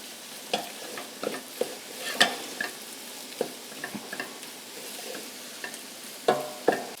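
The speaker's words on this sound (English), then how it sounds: "We're gonna cook that flour with the butter and onions, along with, I should have added already, our garlic." Flour cooking in a pan with butter, onions and garlic, with soft intermittent scrapes and clinks of stirring over a low sizzle, close and quiet, no voices.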